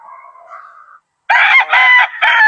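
A rooster on a farm in Angat, Bulacan crows loudly and close by: a thin, wavering opening call, a short pause, then a harsh, drawn-out cry broken into several bursts.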